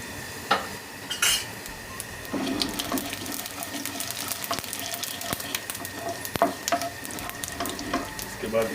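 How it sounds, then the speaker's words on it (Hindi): White cumin seeds roasting in oil in a pan while cooking egg gravy: a soft continuous sizzle with scattered clinks and scrapes of a spoon against metal, close and moderately loud, with brief faint voice. "अब इसके अंदर हम वाइट ज़ीरा डालेंगे, थोड़ा सा इसे रोस्ट कर लेंगे ज़ीरे को"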